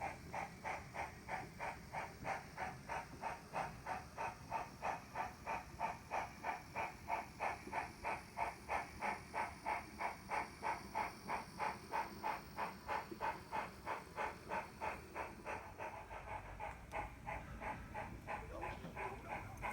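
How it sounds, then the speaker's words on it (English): A model railway train on the PC&N Ry layout runs with a steady, rhythmic steam-style chuff, evenly paced puffs over a soft hiss that hold for the whole stretch before easing slightly near the end. "the train gets ready to enter tunnel number 1"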